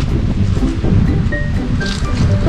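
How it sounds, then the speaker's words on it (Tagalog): Steady wind blowing across a hillside campsite at Sto. Domingo, Batangas City, a constant broadband rush with gusty swells and no voices, loud and close to the microphone. "Mahangin din eh."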